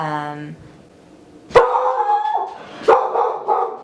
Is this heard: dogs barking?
yes